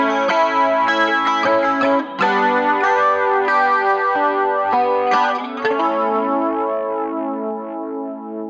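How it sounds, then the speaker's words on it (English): Strummed electric guitar chords run through a flanger pedal set to a slow rate, with the swirling, jet-like sweep clearly audible. Several loud strums ring out across the passage and the last chord fades gradually. "Drop that rate down so you can hear the flange a little bit more."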